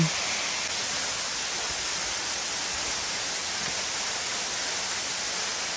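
Matilija Falls in Los Padres National Forest, a steady broadband rush of falling water, constant and fairly close, with no other sounds standing out.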